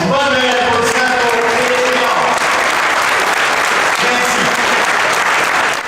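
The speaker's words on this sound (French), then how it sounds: "Une bonne applaudissement pour" A crowd applauds steadily and loudly at a Bombardier event in La Pocatière, with dense clapping sustained throughout and a few voices mixed in.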